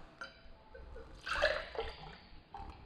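Orange liqueur, orange juice and pineapple juice poured into a glass for a mimosa make a soft splashing trickle that swells briefly in the middle, set against faint room noise with no voices.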